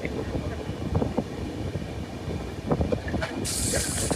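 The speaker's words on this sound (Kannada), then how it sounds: "So it's a long train journey." Steady low rumble of a rail carriage running on a long train journey toward Pune, with wheel and track noise throughout and a brief hiss near the end; a voice talks faintly in the background.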